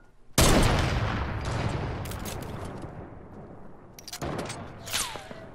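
Gunfire in the video game Fortnite starts with a sharp loud burst of rapid shots that decays, then another burst of shots follows near the end.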